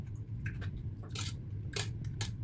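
Crisp crunchy chewing of cucumber mixed with corned beef, a few close bites and squishy crunches in quick irregular bursts, with no talking.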